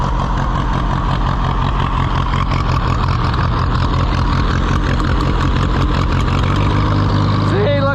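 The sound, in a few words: Allis-Chalmers WD tractor engine running with flooding carburetor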